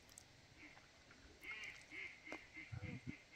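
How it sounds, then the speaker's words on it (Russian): A hunter's duck call gives a run of nasal quacks during an autumn evening opening of duck-hunting season, moderately distant over low rumbling background noise. "Не, явно это манок."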